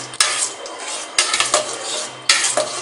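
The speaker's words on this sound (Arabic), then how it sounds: "تقليب مستمر بالراحة" A ladle stirs molokhia soup slowly and steadily in a pot, giving repeated scraping and clinking against the metal with a faint background hum, close and moderately loud.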